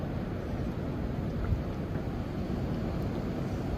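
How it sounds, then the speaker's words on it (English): Low, rumbling wind buffets the microphone continuously, a steady roar with no talking. "It is windy today."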